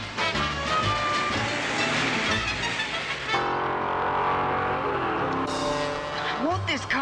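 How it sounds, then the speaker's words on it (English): A car drives fast, engine and road noise rolling continuously with sudden shifts in tone and rising whine-like sweeps near the end, a voice talking over it. "Won't this car go any faster, Grandpa?"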